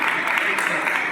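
Loud, dense clapping fills a brief moment as a gathering of sanitation workers welcomes the newly chosen district president of their committee, a continuous crackle of many hands close by.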